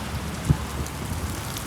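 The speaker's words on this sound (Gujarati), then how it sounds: "આ છે માવઠાનો પહેલો વરસાદ" The first unseasonal rain falls on metal roof sheets as a steady soft patter with a faint low rumble underneath, fairly quiet and continuous, with no one talking.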